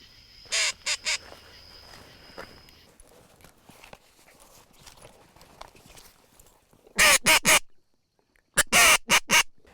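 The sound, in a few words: waterfowl calling near decoys during teal hunt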